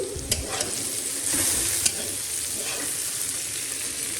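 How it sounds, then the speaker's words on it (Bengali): Thin strips of okra frying in oil in a pan, a steady close sizzle and crackle with faint stirring scrapes, no talking. "এদিকে আমি ভেন্ডি ভাজা বসিয়েছি"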